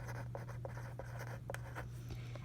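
Pen or pencil writing numbers by hand during a math lesson, a quiet series of short scratchy strokes in an irregular rhythm, close and faint, with no speech.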